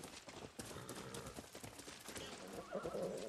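Rhythmic hoofbeats clip-clop steadily from a horse in the Far Cry 6 video game, with a whinny rising toward the end, all fairly quiet and without talk.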